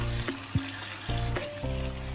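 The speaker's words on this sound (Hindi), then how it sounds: "अब इनको हम भून लेंगे अच्छी तरह थोड़ा" Goat kidney fries with onions in a pan, a steady close sizzle broken by a few spoon clinks and scrapes against the metal, with no one speaking.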